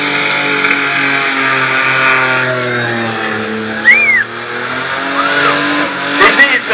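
A white Holden VR Commodore does a burnout at a motorfest burnout competition, its engine wailing at high revs with squealing tires, while a commentator talks over the noise.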